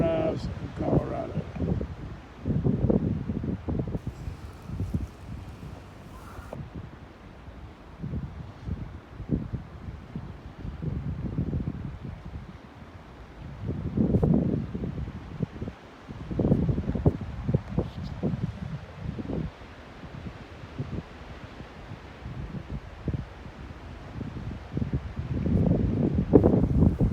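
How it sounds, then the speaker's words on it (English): Strong, gusty wind blows through trees at a Colorado guest ranch on a cold September day, roaring in repeated surges and buffeting the microphone up close. "Wind is blowing"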